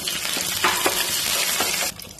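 Curry leaves crackle and spit in hot oil with softened onions for a sardine curry, a loud dense sizzle with a few sharp pops, cutting off near the end.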